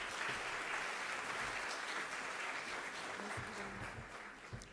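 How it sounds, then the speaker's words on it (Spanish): An audience applauds at a library conference talk in Buenos Aires, steady clapping filling the room and slowly tapering near the end. "Un aplauso, por favor."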